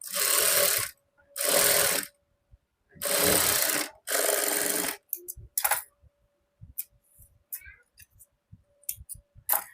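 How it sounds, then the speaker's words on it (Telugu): A sewing machine stitches folded cloth on a maggam work blouse in four loud, close bursts of about a second each, followed by light clicks and handling taps. "ఇప్పుడు ఈ క్లాత్ ని ఇలా ఫోల్డ్ చేసుకొని ఇంకొక స్టిచ్ వేసుకోవాలి"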